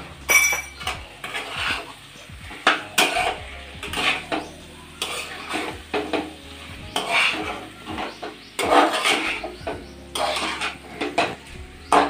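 A spoon scrapes and clinks against a pan as cauliflower curry with spices is stirred, coming in repeated bursts over a soft sizzle of frying.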